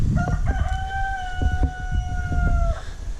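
A rooster crows once in a chicken coop, a long drawn-out call with a clear harmonic tone lasting over two seconds, over a steady rustling background close by.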